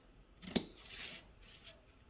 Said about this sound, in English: whenever I have curves, I like to clip the seam